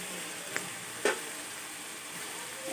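Tomato masala frying in a pan as a spoonful of ground cumin goes in, giving a steady soft sizzle with a couple of faint clinks, close and quiet.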